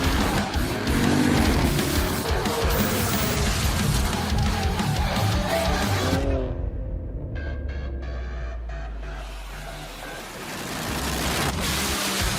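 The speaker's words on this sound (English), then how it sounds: "Two-car spin" Two race cars spin out at Charlotte Motor Speedway in an iRacing simulation, engines roaring loud and close with tire skid noise, then dropping to a low rumble before the engine roar rises again.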